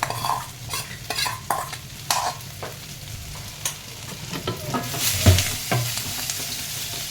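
Oil sizzles in a pan on a gas stove while crushed spices go in for a breakfast chowmein with thecha, a constant frying hiss broken by scattered clinks and stirring scrapes.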